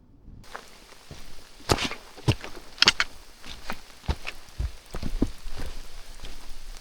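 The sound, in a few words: rain falling during a hike in Saguenay Fjord park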